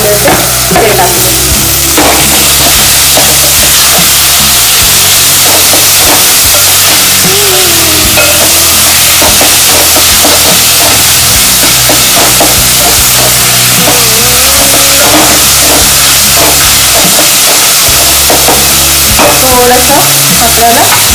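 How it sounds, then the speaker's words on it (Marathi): Two tomatoes go into onions frying in a pan for a spicy chicken kharda and gravy. A loud, continuous sizzle runs throughout, with a spoon repeatedly scraping and stirring close up. "आता याच्यामध्ये आपला हे 2 टोमॅटो घेतलेले ते टाकते।"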